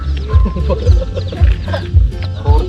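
Chickens and chicks cluck in a steady, busy flock, with low repeated pulses throughout and soft higher peeps scattered over a faint background of voices.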